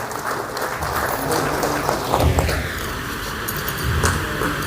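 An audience claps steadily for a guest being welcomed at a BSNL jubilee day event, a dense, fairly loud wash of clapping with a few heavier thumps.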